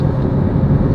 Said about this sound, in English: you can actually hear a lot more wind noise coming from the outside